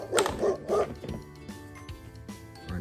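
A brown dog with black ears barks several times close by, with a few short bow-wow yips early on followed by softer, whiny whimpering sounds.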